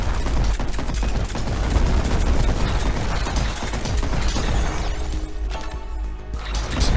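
Rapid, loud shotgun blasts in an indie combat video game, a dense stream of cracking shots and crashing impacts that runs continuously, then thins into scattered hits near the end.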